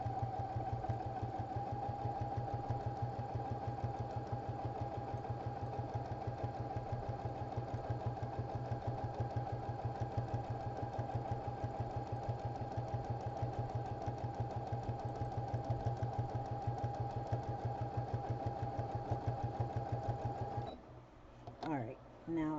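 A sewing machine runs continuously as it stitches a long row down the center of a shaggy bag, a steady rapid mechanical whir and ticking rhythm that carries on for about twenty seconds before stopping abruptly.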